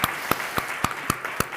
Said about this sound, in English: This is the applause to all